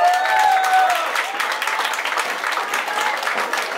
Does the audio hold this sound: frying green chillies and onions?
no